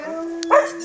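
A large, roughly 50 kg dog coughs once, a short rough hack while straining on its leash, heard close with a steady hum behind it.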